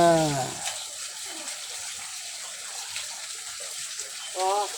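Water pours into a pan while ginger pork with wood ear mushrooms cooks, giving a steady close hiss and gush. Someone talks at the start and again at the end.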